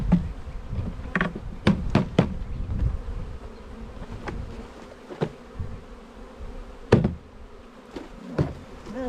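Honeybees shaken out of a container into a new hive buzz in a dense, close swarm, punctuated by several sharp knocks and taps of the shaking.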